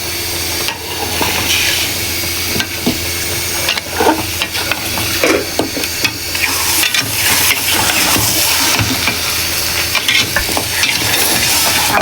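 Cleaned, cut goat trotters (paya) sizzle loudly in a hot pan while being stirred, a dense steady frying hiss with scraping and occasional spatters, close up and without speech.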